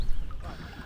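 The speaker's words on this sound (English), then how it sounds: "the blade makes a lovely zip noise as it exits the water" A canoe paddle blade slices quickly out of the water at the end of a fast J stroke, one brief, soft watery zip close to the microphone.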